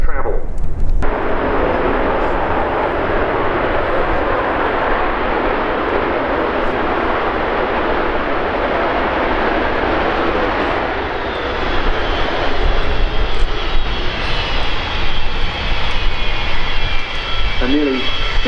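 A jet airliner of the classic four-engine Boeing 707 era flies past at the RIAT air show, a loud, steady broadband roar that builds toward the end, with a crowd talking faintly underneath.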